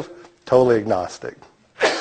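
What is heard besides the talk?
sneeze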